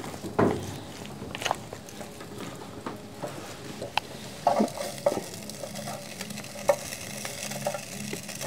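Meat is stir-fried in a pan: a low sizzle runs throughout, broken by irregular scrapes and clacks as the utensil stirs against the pan.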